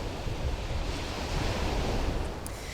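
Steady ocean surf rolls onto the white-sand coast of the Darss Peninsula on the Baltic, with wind buffeting the microphone, a continuous loud wash with no voices.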